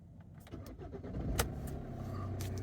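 A Kia diesel car cranks and catches, then settles into a low, steady idle, heard up close and fairly faint with a brief rattle as it fires.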